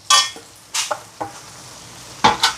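Onions and grated carrot sautéing in a pan, with several distinct spoon scrapes and stirs over a soft, steady sizzle, heard up close and without voices.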